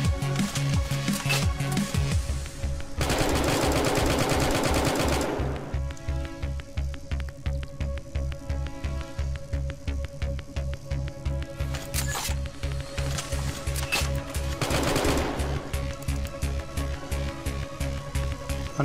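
Rapid gunfire rattles on in the Red Alliance video game, dense machine-like bursts of shots repeating in a fast, even rhythm with a few louder, harsher stretches.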